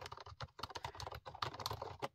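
Dense, rapid typing on a Five Below typewriter-style Bluetooth keyboard, with soft, close keystrokes tapping in a steady flurry and no talking over them.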